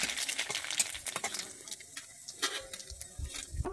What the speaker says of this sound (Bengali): আর দিচ্ছি কালো জিরে দিয়ে দিচ্ছি। দিয়ে আমি ভালোভাবে নেড়ে নিচ্ছি।